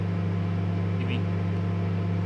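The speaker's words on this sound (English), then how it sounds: "Microwave it." A microwave oven hums steadily in the video game The Convenience Store, a constant low drone running the whole time with a faint tone rising briefly partway through.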